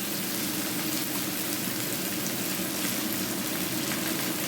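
Ten chopped onions and fifteen cloves of chopped garlic fry in hot oil, giving a steady, loud, unbroken sizzle throughout.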